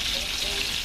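Sauerbraten meat browning in a hot pan, a steady close sizzle and hiss of frying that runs without a break through the whole short moment.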